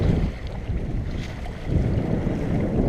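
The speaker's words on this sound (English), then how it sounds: "Steady wind, not really gusty." Steady wind on a moving sailboat, a continuous low rumbling buffet across the microphone with water rushing beneath, fairly loud and without distinct gusts.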